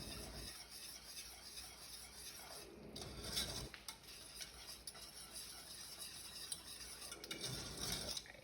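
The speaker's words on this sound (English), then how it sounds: "we're just going to stir this constantly, letting this butter melt" A spoon scrapes and stirs around a pot of melting butter for caramel popcorn, a steady soft scraping with a few metallic clinks, close and moderately quiet with no talking.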